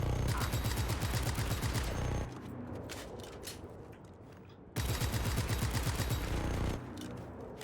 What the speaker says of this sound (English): I was shooting the wall.